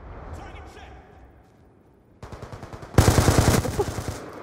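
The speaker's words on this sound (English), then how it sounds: "Oh, shotguns. Love them." Shotgun blasts in a video game firefight, a run of rapid sharp shots that grows louder and denser toward the end, with talk underneath.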